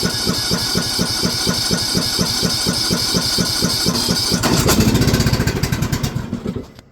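Spartan riding mower engine started cold without choke, chugging in a rapid steady rhythm up close, then surging roughly before sputtering and dying away.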